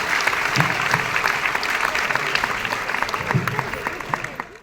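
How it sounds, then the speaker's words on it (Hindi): Loud sustained applause from an audience at a business club gathering, dense crowd clapping that holds steady before tapering off at the end. "जोरदार तालियां हो जाए इन सब लोगों के लिए, जोरदार तालियां"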